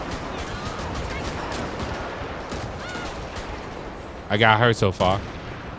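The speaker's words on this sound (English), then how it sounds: "We unloading all mags on these guys." Rapid gunfire from a firefight in GTA 5 during a CHP motorcycle patrol mod: a dense stretch of sharp cracks and echoing shots over constant noise, followed by someone briefly talking near the end.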